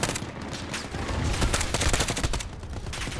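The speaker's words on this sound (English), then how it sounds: "Ooh, I'm getting shot a lot." Dense gunfire in a multiplayer shooter game strikes the player, a loud continuous volley of rapid shots and impacts with bursts building and easing over a few seconds.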